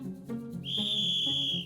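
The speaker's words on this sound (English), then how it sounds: "the sound of this whistle" A high-pitched whistle is blown in one steady, shrill tone lasting about a second, over a faint low background hum and with no voices.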